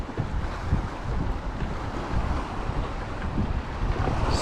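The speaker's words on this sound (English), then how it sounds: "Wind has picked up substantially." Strong wind buffets the microphone out on a lake during a bass fishing tournament, a constant loud roar with choppy water and boat noise underneath, no voices.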